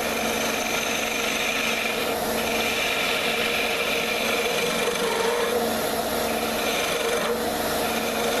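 A skew chisel cuts a spinning wooden workpiece on a lathe, making a continuous close rasping, shearing hiss with slight swells as the cut varies.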